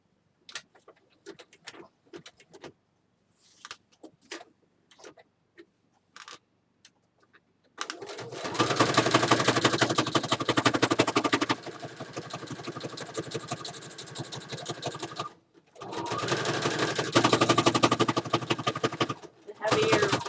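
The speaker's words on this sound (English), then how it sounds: "my sewing machine is loud" A sewing machine stitching through heavy hanging file folder paper runs in a loud, dense mechanical rattle, paused briefly midway, after a stretch of quiet scattered handling clicks.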